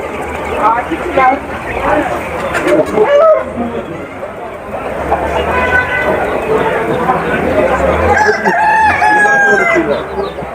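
Roosters crow repeatedly at a busy Kokand poultry market, with hens clucking and people talking throughout amid loud crowd bustle.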